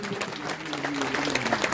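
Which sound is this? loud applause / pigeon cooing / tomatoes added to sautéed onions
loud applause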